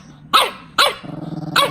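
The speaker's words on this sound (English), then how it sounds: "she barks at Ace to play with her" A young puppy barks in three sharp, close yips, with a low growl running between the second and third.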